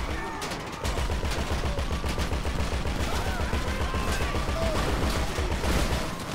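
Rapid gunfire in Grand Theft Auto V during a doomsday heist shootout, a dense, steady stream of repeated shots filling nearly the whole stretch after a brief quieter opening.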